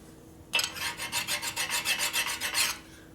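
A hand file rasps paint and burrs off the metal of a 1972 Harley-Davidson 1000cc Ironhead Sportster being rebuilt as a street tracker. About a dozen steady, evenly paced strokes sound close and loud, with no talk.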